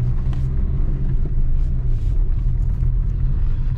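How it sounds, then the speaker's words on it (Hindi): A car engine labours uphill in first gear on a hilly road near Sajjangarh Fort in Udaipur, a loud, close, steady low rumble that holds throughout without breaks or voices. "फर्स्ट गियर में चढ़ रही है।"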